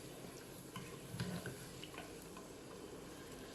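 Soft, faint stirring of mutton varuval in a cooking pot, with quiet scraping and light sizzling against a low steady background.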